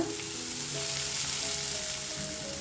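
Onions and cluster beans fry together in a pan over a low flame, giving a steady, close sizzle with a dense hiss that holds evenly throughout, no voices.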